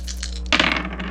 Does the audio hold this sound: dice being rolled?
yes